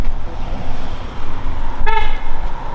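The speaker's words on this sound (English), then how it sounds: "Honk." A single short car horn toot sounds near a drift event with an IS300, one brief honk over a background rumble of traffic and engines.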